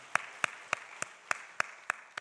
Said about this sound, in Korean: 우리 박수 한번 좀 쳐주세요